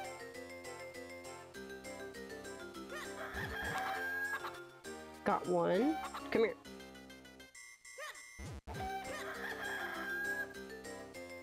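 Chickens clucking and crowing in the video game Legend of Zelda: Minish Cap, repeated bright game-style calls over looping music, with brief talk in between.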